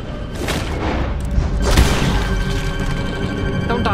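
Gunfire in Red Dead Redemption 2: a string of booming shots and thuds over a steady game background, loud and close, with a couple of heavier blasts near the middle.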